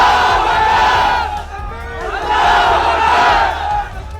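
A large crowd in a street protest in Tonk chants and shouts slogans at night, two loud surges of massed voices with a short dip between them, close and filling the whole clip.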